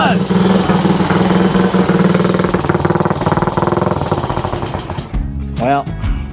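A 1967 Triumph Cub motorcycle's single-cylinder engine runs right after starting, a loud, close, rapid staccato putter that fades unevenly as if stumbling. Someone speaks briefly near the end.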